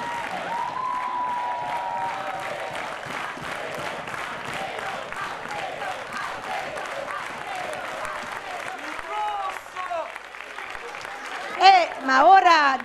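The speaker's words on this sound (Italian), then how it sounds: "E poi volevo un applauso speciale, prima del bis doveroso, per il nostro maestro Alfredo Intagliato." An audience at a high school orchestra's Christmas concert applauds the conductor with sustained, even clapping, while someone speaks over a microphone near the end.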